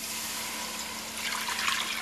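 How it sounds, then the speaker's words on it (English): Two cups of water poured into a preheating pan for homemade pancake and waffle syrup, a steady close rushing splash that swells slightly louder toward the end, with no talk. "So to my preheating pan, I am now going to add 2 cups of water."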